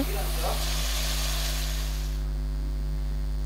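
Cauliflower sizzles in hot oil in a pan, a steady dense crackling hiss over a constant low electrical hum that softens partway through.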